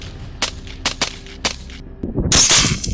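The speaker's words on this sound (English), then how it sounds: "the first gunshot rang out from Jack's position" During a night hunt for wild boar, sharp rifle reports crack out in quick succession, four distinct shots within about a second. A louder burst of noise follows.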